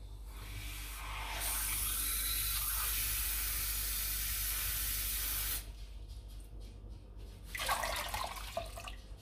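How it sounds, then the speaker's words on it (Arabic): Lukewarm water pours steadily into flour for homemade bread dough, a continuous hissing stream that stops abruptly, then a short splashy trickle follows near the end. "وغادي نضيفو جوج ديال الماء يكون شوية دافي، ما بارد ما سخون."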